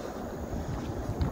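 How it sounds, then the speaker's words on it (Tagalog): Wind gusts buffet the microphone in a soft, continuous low rush outdoors beside a rice paddy in Japan at dusk. "Medyo mahangin."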